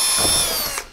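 A power drill runs continuously with a steady high whine as a 1/8-inch bit bores a pilot hole during a turbo kit install on a Toyota 1FZ-FE engine, loud and close, slowing slightly at the end.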